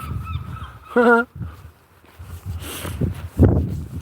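A bird on a house rooftop in the seaside town of Withernsea gives a loud, honking call in one short burst near the middle, with faint calls before it. Wind and outdoor noise run underneath, and a brief voice follows.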